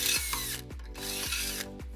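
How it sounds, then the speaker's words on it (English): A power drill bores a hole through metal while fitting a Blue Ox baseplate to a 2014 Fiat 500, with several short, loud bursts of whining drive stopping and restarting close by and no talk. "then we'll drill our second hole"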